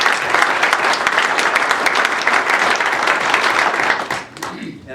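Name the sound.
audience applause for culinary students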